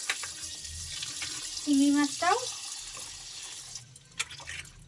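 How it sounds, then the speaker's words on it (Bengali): Young jackfruit is rinsed under a running tap, with a short burst of water splashing onto the fruit and sink and then thin trickles over quiet household background. "এই যে এই হচ্ছে তোমার এঁচড়টাও ধুয়ে রেখে দিই"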